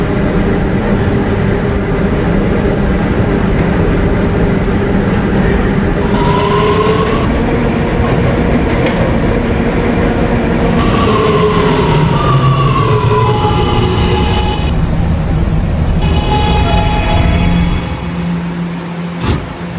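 R211A subway train in a Roblox game running at speed, a loud sustained rumble with whining motor tones that sweep up and down, easing off near the end, no talking.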